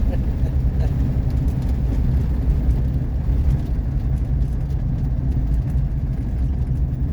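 A 1959 Ford Fairlane 500 engine drones while driving, a continuous low, rough rumble heard from inside the car, moderately quiet and unchanging throughout.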